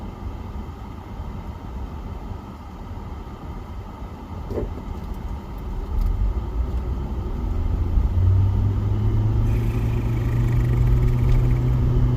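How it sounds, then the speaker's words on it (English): Delivery truck rumbling past, low engine rumble building steadily louder over the second half with a deep droning tone, heard alone without talk. "Oh, it's delivery truck, I see."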